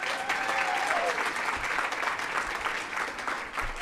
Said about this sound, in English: If you would please give them a round of applause as well.